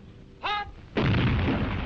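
A Sherman Firefly tank firing its 17-pounder anti-tank gun: a short tonal whine, then a single loud, sharp blast that rolls into a sustained rumbling boom.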